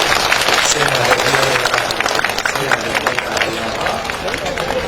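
An audience at a Buddhist dhamma sermon claps in greeting, a dense, steady patter of many hands that holds at an even level for several seconds, with faint crowd murmur beneath.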